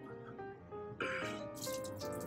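Water running into a sink while a makeup brush is rinsed and squeezed out, a soft trickle that swells into brighter splashing and dripping near the end, close and fairly quiet.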